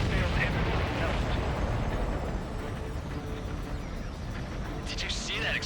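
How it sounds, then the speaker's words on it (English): A supply ship blows up in the Ace Combat 7 jet combat game, a loud sustained rumbling blast that slowly fades into roaring noise, with radio chatter mixed underneath. "Did you see that explosion?"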